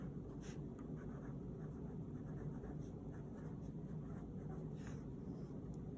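A pen writing notes on paper, heard as faint, intermittent scratching strokes over a low, steady background hum, with no voices.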